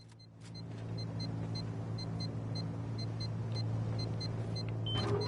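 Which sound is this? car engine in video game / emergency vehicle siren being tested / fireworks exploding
car engine in video game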